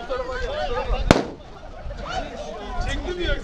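A small firecracker bursts once with a single loud, sharp bang outdoors at a bicycle festival on the Black Sea coast, amid crowd noise and chatter.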